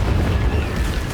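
Confringo explosive spell in Hogwarts Legacy on Switch: a short, heavy boom with rumbling low-end texture, loud and steady for about a second.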